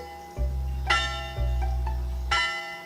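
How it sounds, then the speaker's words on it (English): A clock tower bell on a university campus striking ten in a game scene, deep resonant tolls with long ringing decay, heavy low drone beneath, several strikes spaced about a second apart. "just as the bell in the clock tower strikes 10"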